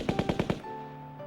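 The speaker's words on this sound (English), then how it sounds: "The noise of machine guns" A burst of machine-gun fire from a rifle range, five rapid evenly spaced shots followed by a fading echo, fairly distant and alone.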